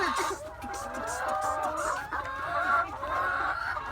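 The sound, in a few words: hens clucking while laying eggs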